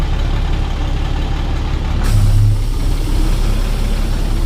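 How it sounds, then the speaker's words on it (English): A 2001 International dump truck with a DT466 diesel and Allison automatic transmission runs steadily with a deep, continuous engine rumble that swells slightly midway, heard close and alone. "It's powered by a DT466 engine."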